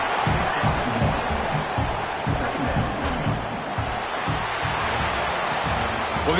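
Dense roar of a packed stadium crowd at a college football game between Oklahoma State and TCU, a constant loud wash of noise with a commentator talking over it.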